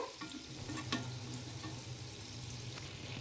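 Homemade biscuits fry softly in a pan over a medium flame, giving a faint, steady sizzle with a couple of small clicks.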